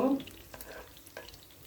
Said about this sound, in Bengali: 2 মিনিটের মতো এই পেঁয়াজটা আমি ভেজে নেব